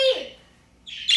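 A pet bird squawks in two loud, harsh bursts, one at the start and another near the end, with a quiet gap between them.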